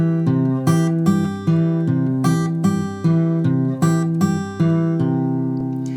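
Blues guitar is fingerpicked in a steady looped pattern with notes landing squarely on the beat: bright plucked bass notes and treble notes repeat evenly, and the last one rings out at the end.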